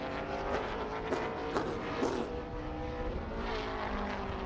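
A stock race car from the CARS Tour runs at speed around Greenville Pickens Speedway during qualifying, its engine roaring continuously at a steady distance with rising and falling pitch as it circles the track.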